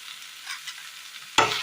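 Tomato curry with curry leaves stirred in a pan, a soft continuous frying hiss with faint scrapes, then a sudden louder sizzle burst near the end as the leaves hit the hot pan.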